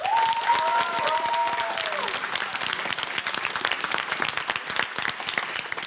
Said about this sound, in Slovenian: Dajmo jim še enkrat zaploskati.